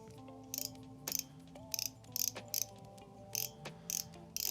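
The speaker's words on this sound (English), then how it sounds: "Standard Shimano sounding drag, not too loud, not too quiet." A Shimano Sustain FJ spinning reel in black, gold and silver gives short bursts of ratcheting drag clicks, each a few tenths of a second long, repeating irregularly at close range with no talking.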